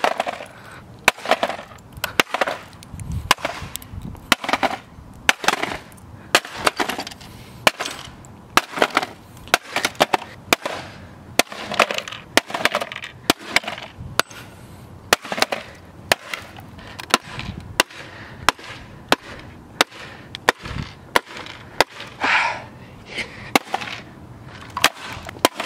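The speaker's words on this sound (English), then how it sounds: "time to bam and slam and bam this learn through music toy" A Fisher-Price Learn Through Music TouchPad toy is smashed with repeated hard blows, dozens of sharp cracks and crunches at an uneven pace, with bits of the toy's electronic sound between hits.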